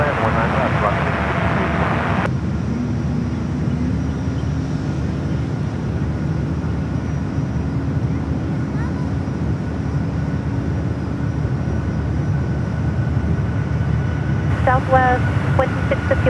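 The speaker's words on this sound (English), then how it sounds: "Let's head to our next arrival at 19er left, which is KLM, the 787. Coming in from Amsterdam." Distant airliner noise from a KLM Boeing 787 arriving from Amsterdam on runway 19 left at San Francisco, a broad steady rumble held throughout, with voices and radio chatter over it.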